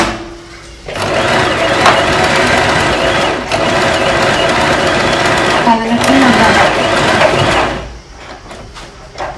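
A sewing machine stitches a test of patterns 4 and 2, a loud continuous mechanical whir running for several seconds before stopping, with a voice speaking over it.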